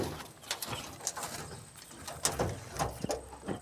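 Pashchima-breed pigeons coo in a loft, giving soft, repeated throaty calls that overlap in an uneven rhythm against a faint busy background.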